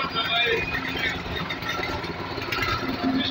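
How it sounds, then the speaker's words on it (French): Mini tractor made in Cameroon, its engine running just after starting: a steady, rough mid-pitched rumble with a faint chattering vibration, close and continuous throughout. "Là, voilà le démarrage de machine."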